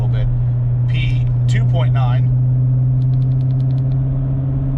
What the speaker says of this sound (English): you immediately hear the car speed up a little bit